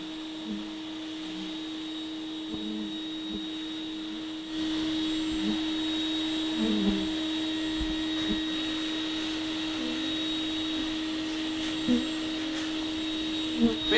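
A bee vacuum runs with a steady, droning suction hum while drawing bees out of a house wall cavity, getting louder partway through, with faint buzzing and knocks underneath.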